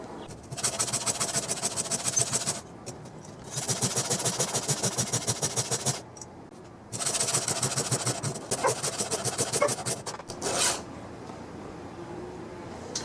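A chainsaw engine that bogs down at high throttle, needing carburetor adjustment, runs in loud buzzing bursts of about two to three seconds each, separated by short drops to a quieter idle, with a final brief rev at the end.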